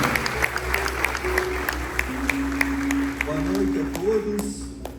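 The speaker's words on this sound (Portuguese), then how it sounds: "Você pode dar uma salva de palmas aqui." A church congregation claps together after a closing prayer, steady broadband applause with crisp individual claps throughout, while a voice and a sustained tone hum faintly underneath.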